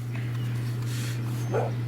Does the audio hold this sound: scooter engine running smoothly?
no